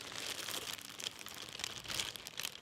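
A red plastic bag is handled close up, giving a continuous rustling crinkle with sharper bursts as it is squeezed and shifted, fairly quiet and with no talk.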